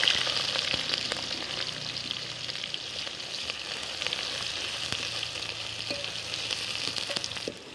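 Onions frying in hot oil with cumin for a village-style fish curry, a steady close sizzle that holds evenly throughout with faint spatula scrapes now and then.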